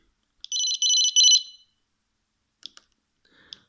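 A short electronic ringtone melody chirps from the small loudspeaker of a Sony Ericsson T310 mobile phone, followed after a pause by a few faint clicks and beeps.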